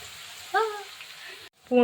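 Crushed garlic and mustard seeds frying in coconut oil, with curry leaves, for a tomato thokku; a soft sizzle and crackle with a couple of brief louder spits, under a faint background voice.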